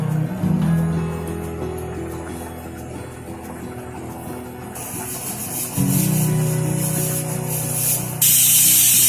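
Oil sizzles in a pan as tempering begins for ghee rice in a home kitchen, a close, steady frying hiss that grows brighter and louder in bursts toward the end, with faint background sounds beneath it.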